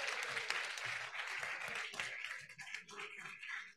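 A room full of attendees applauds at a digital health conference closing ceremony, a dense, fairly soft patter of clapping with no voices.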